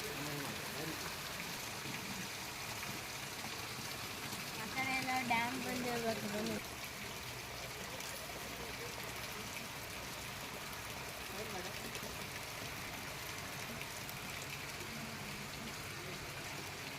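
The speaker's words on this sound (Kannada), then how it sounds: "ಈ ಥರ ಮಳೆ ಬರ್ತಿದೆ ನೋಡಿ" Monsoon rain in Malnad falls steadily in a soft, even hiss, while a brief bird-like chirp sounds for a moment partway through.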